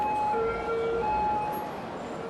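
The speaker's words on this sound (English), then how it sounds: "police cars, fire engines, and ambulances make the exact same sound for the siren" Emergency vehicle siren from the Cities: Skylines city-building game, where police cars, fire engines and ambulances share one sound; a steady electronic wail with sustained pitched tones runs continuously over a busy traffic-like hum.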